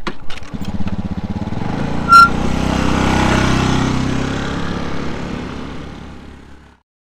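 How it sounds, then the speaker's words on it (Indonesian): Motorcycle engine idling with an uneven throb and a brief sharp burst, then the running sound gradually weakens and cuts out as the engine stalls, close and fairly loud with no speech. "Kenapa motor Intan nih tiba-tiba mati?"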